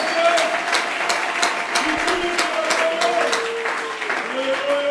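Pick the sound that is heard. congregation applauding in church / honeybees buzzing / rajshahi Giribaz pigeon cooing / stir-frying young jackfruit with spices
congregation applauding in church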